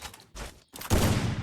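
Bursts of gunfire in the Free Fire shooting game, including a Desert Eagle pistol, with a short crackle, a brief silent gap and then a louder sustained volley.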